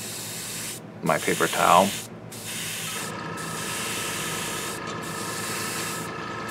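A continuous airbrush hiss sprays paint steadily onto a paper towel for several seconds, broken by brief pauses, with a short voice heard early on.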